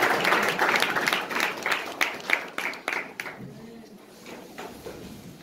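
A church congregation applauding at a French-language service, a dense burst of clapping that stays strong for about three seconds and then thins out to scattered claps.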